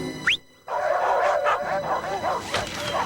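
Dogs bark in a Subaru Outback commercial: a short yelp, a brief pause, then a run of close, rapid barks and yips that continue to the end.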